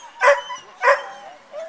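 A dog barks twice in quick succession, close and sharp, about half a second apart, followed by a softer third yip.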